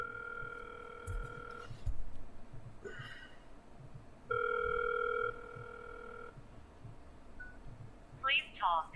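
A Hikvision vandal-resistant access control terminal calls the HiConnect phone app, giving two steady electronic ring tones separated by a pause. Background noise and a few soft knocks sit around the rings, with a brief chirp at the end.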